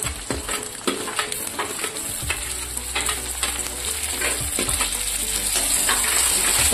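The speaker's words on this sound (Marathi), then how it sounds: "आता आपण टमाटर घालू त्याच्यात टाकू." Tomatoes and golden-fried onions sizzle steadily in a pan for a spicy Maharashtrian brinjal bhaji, a loud continuous frying hiss with occasional stirring scrapes throughout.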